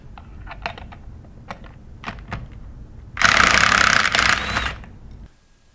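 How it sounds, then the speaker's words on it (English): A 3/8 inch electric impact gun loosens discharge manifold bolts on a Sandpiper S15/S20 non-metallic pump, giving a few short clicks and handling taps, then one loud, close two-second burst of whirring impact hammering that cuts off abruptly. "we're going to use a 3/8 inch electric impact gun"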